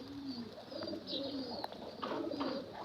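Pigeons or doves coo softly in a steady series, with other birds calling and chirping around them, fairly close and clear with no talk over them.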